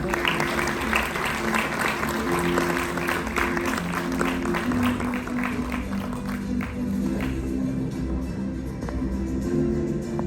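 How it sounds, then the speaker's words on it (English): Audience applause at a cancer congress award ceremony, a steady wash of many hands clapping that stays strong throughout before thinning slightly near the end. "please give a round of applause to Yu Chen."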